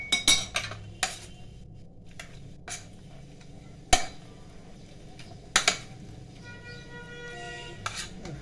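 Eggs worked into dough in a pot with a metal utensil: scattered sharp clinks and knocks against the pot, irregular and close, over quiet kitchen background.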